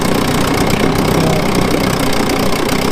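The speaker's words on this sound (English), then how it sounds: "it's a good running little engine" A small outboard engine on a 1982 Aqua Swan 14 ft boat idles steadily and close, a constant rough mid-low drone with a light knocking pulse and no talking.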